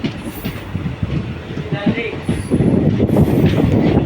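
A passenger train pulls out of Kodumudi station on the Karur to Tirupur line via Erode, with a steady, loud low rumble of rolling wagons and wheels that builds over a few seconds, along with faint speech.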